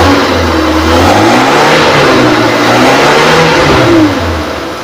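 A 2005 Suzuki Carry pickup with a 1.0-litre engine revs up to higher RPM, the engine note rising and holding close and loud, then easing slightly at the end, with no voices.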